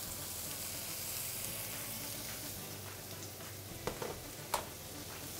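Lemons and a little butter sizzle in a hot pan as part of a seared halloumi and prawn dish, a steady close frying hiss with a couple of sharp pops near the end.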